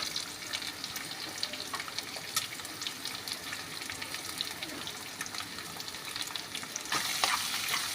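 Chopped onions sizzle in a pan with red chilies and spices while being stirred, a steady broadband frying hiss throughout with scraping stir sounds, louder near the end, no talking.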